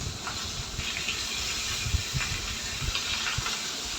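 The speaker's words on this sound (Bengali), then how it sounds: "আর এখন মাছটা ভেজে নিচ্ছি" Large pieces of fish fry in hot oil in a small pan, making a steady close hiss with soft bubbling and no voices.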